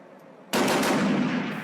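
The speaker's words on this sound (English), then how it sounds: "Gunfire and rocket attacks in Kunduz city" Sudden burst of sustained gunfire in Kunduz city amid fighting, a loud dense rattle of rapid shots starting abruptly after a quiet moment and continuing without pause.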